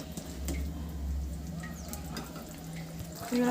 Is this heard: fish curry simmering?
yes